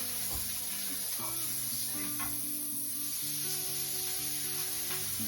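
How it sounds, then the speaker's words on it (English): Smash burger meat balls frying on a hot pan give a steady, even sizzle close by, with a faint tonal hum running underneath and no talking. "So I've got the chili balls here on the pan, just like that."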